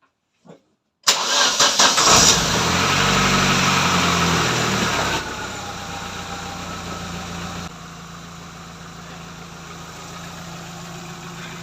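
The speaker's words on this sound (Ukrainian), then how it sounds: "Я запущу двигуна і покажу, як це все перевірити." A car engine with an LPG gas system and faulty gas injectors cranks and catches with a loud rough burst, then settles into a steady idle that drops in level twice, running on without speech.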